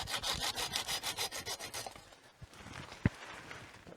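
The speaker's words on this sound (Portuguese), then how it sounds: "Pode ser com facão ou pode ser com serrote. O serrote ajuda mais," A handsaw cuts through gliricidia branches in quick, even back-and-forth strokes, close and rhythmic for about two seconds, then stops, leaving scattered rustles and a single sharp knock.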